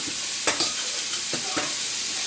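Cumin seeds and urad dal fry in hot oil, giving a steady close sizzle broken by a few sharp scraping strokes of stirring.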